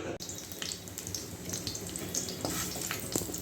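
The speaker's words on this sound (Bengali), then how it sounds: "এখানে রসুন আর শুকনো লঙ্কা কেটে দিয়ে দিয়েছি।" Garlic and dried red chillies fry in a pan with a steady, close crackle and sizzle, broken by a few sharper pops.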